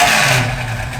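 A 1971 Chevrolet Camaro SS engine revs in a loud, close, sustained roar that holds steady and then eases slightly over a second.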